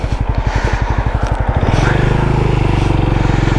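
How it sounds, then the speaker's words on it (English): An air-cooled Benelli Imperiale 400 single-cylinder engine thumps in a rapid, even pulse while riding through the city, loud and close, the beats quickening and blending into a smoother drone as it accelerates. "Thumping, that classic thumper noise."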